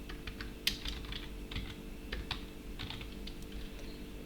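Keys tapped on a computer keyboard in a quiet room, a series of faint, irregular clicks with one sharper keystroke early on.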